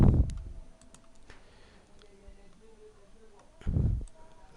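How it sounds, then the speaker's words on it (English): Computer keyboard keys pressed, a few light, scattered clicks close by, with brief louder thumps at the start and near the end. "Control page up from a keyboard."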